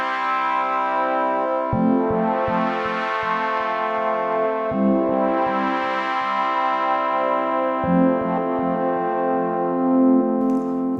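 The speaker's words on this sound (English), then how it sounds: "Little bit of delay." Sustained IK UNO Synth Pro analog synthesizer chords with a repeating delay effect, each change of chord followed by quick echoing pulses that trail off, continuous and loud.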